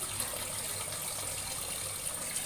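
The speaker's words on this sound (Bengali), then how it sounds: "এখন মাছগুলোকে ধুয়ে নেব, ধুয়ে তারপরে সংরক্ষণ করব।" Water running steadily over cut fish pieces being washed, a continuous bright splashing gush close by with no pauses and no talking.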